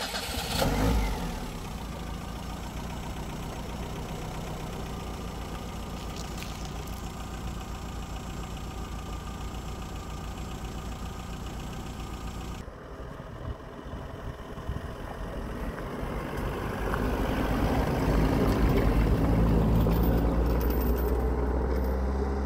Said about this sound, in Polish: teraz może przejedźmy się Fiatem.